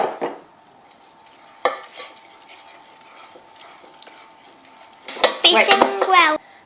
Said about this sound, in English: Gradually add your eggs until the choux pastry is smooth.